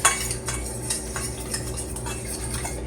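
Cinnamon and sugar are stirred together in a bowl, producing close, continuous scraping and light clinks of a utensil against the bowl, with no talk.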